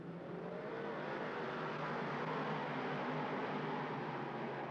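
Big block modified race cars roar around the dirt oval at Lernerville Speedway, a continuous dense engine drone heard from a distance, steady and unbroken throughout.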